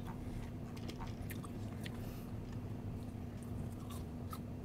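Crunchy eating sounds, someone biting and chewing food close to the microphone, heard as quiet scattered crunches over a low steady hum, with no talking.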